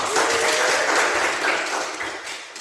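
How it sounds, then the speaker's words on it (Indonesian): Group applause for Glenn in a teacher-training class session, a steady wash of clapping from a small group that swells briefly and then fades slightly over a couple of seconds, with no talk. "Yuk, tepuk tangan Glenn."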